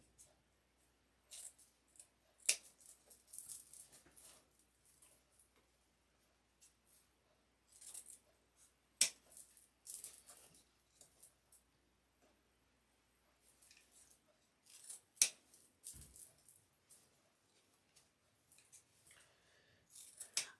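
Scissors snip and trim a grapevine wreath in sparse, crisp cuts spread over about twenty seconds, with faint rustling of vines between the quiet snips and no speech.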